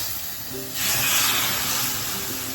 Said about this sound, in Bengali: সুজিটা এবার ওই এই জলটা দিয়ে দেবো